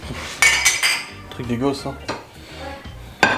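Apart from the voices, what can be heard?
dishes being handled for the dishwasher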